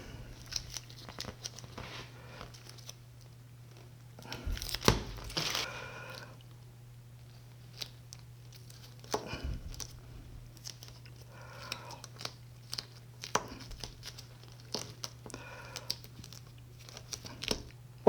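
Butyl sealant tape being handled and cut during a carbon fiber resin infusion layup, with faint crinkling, tearing and tapping bursts scattered over a steady low hum, louder around a few sharp handling moments.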